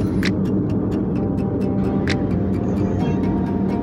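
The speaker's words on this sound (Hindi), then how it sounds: "सामने से एक बड़ी गाड़ी लैंड क्रूज़र जा रही है" A big Toyota Land Cruiser speeds along a road past a university wall in Jeddah, a steady loud road rumble with faint ticking clicks on top, no voices.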